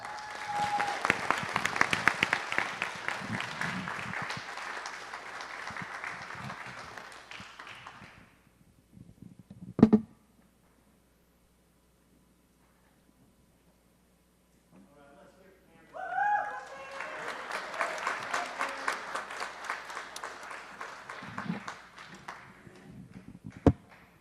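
A city council meeting audience applauds Cam after a certificate presentation: a steady burst of clapping, then a sharp tap and near silence, then a second long round of applause.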